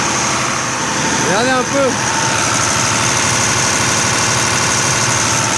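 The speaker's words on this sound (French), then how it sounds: "On reconnaît bien le moteur tête, ce qui claque" A six-cylinder engine idles up close with a loud, steady, rapid clattering beat, as someone speaks briefly over it.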